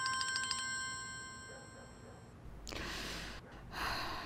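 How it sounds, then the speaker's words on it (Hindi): A telephone ringtone repeats in steady pulses in a drama scene, clear and close, then stops. Loud breaths or rustles follow in the quiet room afterward. "अरे ये दारिया का फोन है, तुम सुन लो फरीदे।"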